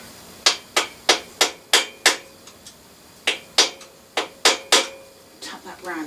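A hammer strikes a bicycle part during a bike rebuild, landing about a dozen sharp metallic taps in a steady rhythm with a short pause midway, close and loud with no talk.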